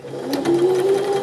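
A sewing machine stitching a side seam on a garment, running at a steady hum with a rapid, even needle rhythm, close and clear, alone without talk.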